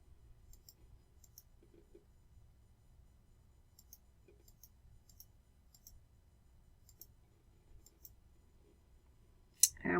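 Computer mouse clicking through check boxes, a series of faint, crisp single clicks spaced irregularly about a second apart in a quiet room, ending with a louder bump.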